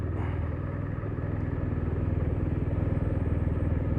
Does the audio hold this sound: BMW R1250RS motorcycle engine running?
yes